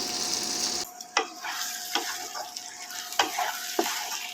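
Capsicum frying in a pan with soy sauce, a sizzle that drops away to leave a few distinct spatula scrapes and clicks at irregular intervals against a low, steady frying hiss.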